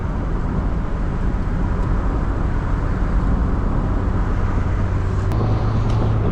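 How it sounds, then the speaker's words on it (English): Steady, loud wind buffeting from driving a Mazda ND MX-5 Miata convertible with the top down, a dense roar throughout with low road rumble and no talking. "I apologize in advance for any wind noises"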